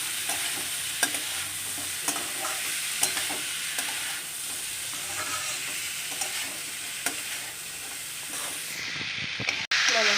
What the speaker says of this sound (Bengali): ভালো করে নেড়ে চেড়ে কষে তারপরে আমি জল দিয়ে দেবো।